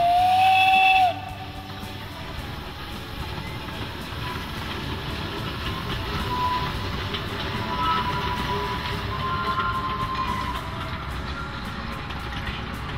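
Steam locomotive on the narrow-gauge Čierny Hron forest railway in Slovakia gives a loud whistle blast at the start, then its steady rumble, hiss and rolling wagons continue close by with no talk.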